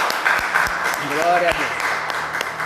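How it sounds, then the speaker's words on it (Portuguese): A church congregation applauds during a service in a dense, continuous wash of clapping, while a voice speaks briefly over it. "E a salva de palmas é para Jesus."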